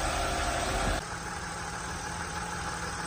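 A Volkswagen Touareg engine idles steadily after a restart from cold, a continuous mid-low hum close by. A louder rumble drops to a calmer, even idle after the first second.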